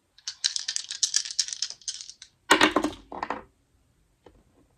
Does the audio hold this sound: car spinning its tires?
no